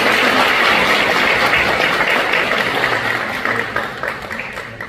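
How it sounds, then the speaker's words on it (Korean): Congregation applause at a church baptism service, a dense, sustained clapping that fills the room, strongest at the start and gradually thinning as it fades over several seconds. "크게 박수해 주시겠습니다."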